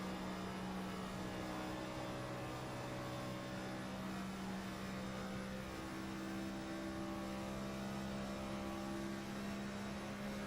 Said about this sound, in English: And these engines just sound so flat.